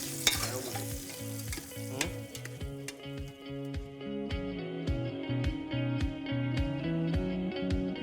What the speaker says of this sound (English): That's Chinese chorizo with salted fish, garlic,